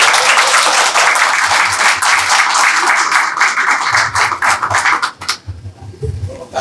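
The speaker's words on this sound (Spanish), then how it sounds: "Muy bien, pero un aplauso." Audience applause at a university philosophy olympiad event, dense clapping for several seconds that thins out and fades toward the end, with scattered individual claps left.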